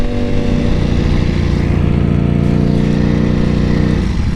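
Motorcycle engine running steadily and loud from start to finish, a continuous near rumble with the pitch holding level, then dropping near the end as the bike rides off; no talk over it.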